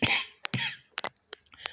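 Several short, sharp coughs from a single nearby person, coming in uneven bursts with brief pauses between them, heard alone without any talking.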